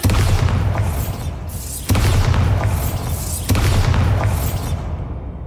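Bombarda spell blasts in the Hogwarts Legacy video game: three loud booming bursts spaced roughly evenly, each with a sharp crackling attack and a rumbling tail, over a steady low game rumble with no talk.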